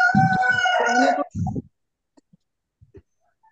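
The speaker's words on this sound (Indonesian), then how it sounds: "Itu jago siapa sih?" A rooster crows loudly and close by for about a second and a half, followed by a short second call, then near silence with faint scattered clicks.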